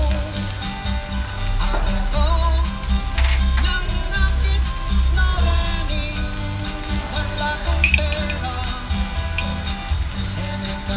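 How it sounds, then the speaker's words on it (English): Onions sautéing in hot oil for a sweet chili-garlic flounder dish, with a steady sizzle and occasional stirring clatter, all under a loud, continuous bed of music. "when they're golden brown, add the onions. Saute a little bit."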